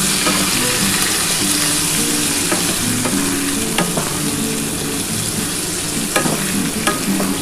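Potato and pointed gourd pieces fry with turmeric in a pan, an even, loud sizzle with occasional soft stirring scrapes and taps, close and steady, with no voices.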